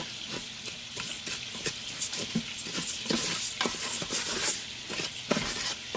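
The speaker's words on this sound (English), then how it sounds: "browning my chicken here" Chicken pieces browning in a frying pan while rice cooks separately, a soft continuous sizzle with scattered taps and scrapes of stirring, fairly quiet and with no talking.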